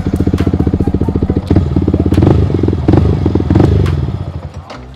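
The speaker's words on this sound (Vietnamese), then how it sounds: "Rồi bây giờ cho anh em nghe tiếng bô." A Yamaha R15 motorcycle's exhaust burbles loudly at close range, idling with a rapid even pulse, then rising as the throttle is blipped and settling back down.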